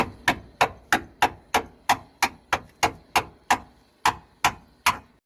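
A screwdriver handle is tapped repeatedly against a suspension control arm on a Mitsubishi Outlander, about fifteen sharp, evenly spaced knocks close by, with a short pause before the last few.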